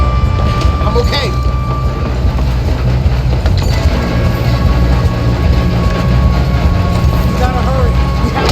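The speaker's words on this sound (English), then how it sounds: "We have to stop this train." A moving train in Red Dead Redemption 2 rumbles and rattles continuously at close range, a dense low roar with faint metallic squeals and clatter, with talk faintly mixed in at times.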